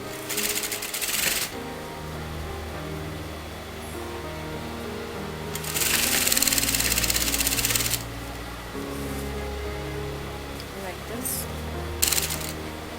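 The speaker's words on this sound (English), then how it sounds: "I'm sewing this together." A sewing machine stitches a side panel onto a kameez, running in bursts of fast rhythmic whirring with short pauses between and louder runs near the middle and end.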